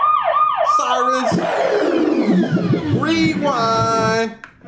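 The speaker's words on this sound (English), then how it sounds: "you got your horn again, your siren" An electronic siren effect plays loudly through an LG XBOOM RK8 100-watt Bluetooth speaker, sweeping up and down in pitch with wailing tones, then cuts off abruptly at the end.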